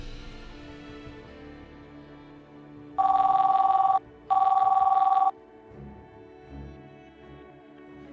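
A telephone rings twice in two loud, buzzing bursts, close by, with quiet room sound before and after.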